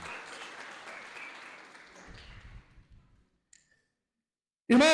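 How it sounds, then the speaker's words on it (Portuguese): Congregation applause in a church service, a soft wash of clapping that fades out over about three seconds into near silence, followed by a sudden loud burst of another sound at the very end. "Dá uma salva de palmas"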